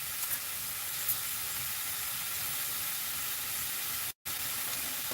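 Onions sizzle steadily in a frying pan, a continuous close hiss with no voices over it.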